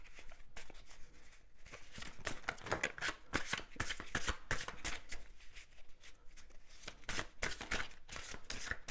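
Tarot cards being shuffled by hand, a close, continuous run of crisp riffling and flicking card sounds with no talking.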